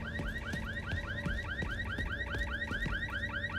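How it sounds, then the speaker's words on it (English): Car alarm sounding in the video game The Division 2, a rapid repeating electronic warble cycling steadily at moderate distance, with faint background game noise and no speech. "Somebody's alarm's going off in the game."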